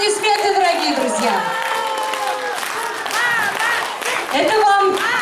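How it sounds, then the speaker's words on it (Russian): Audience applause for several honoured families at a family celebration event, a steady broadband wash of clapping that lasts throughout, with voices and tonal sounds carrying over it. "Ваши бурнейшие аплодисменты, дорогие друзья."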